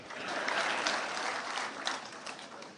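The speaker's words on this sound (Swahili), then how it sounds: "Makofi kwangu basi." An audience at a governors' gathering breaks into sustained applause, dense clapping from many hands held steady throughout without a break.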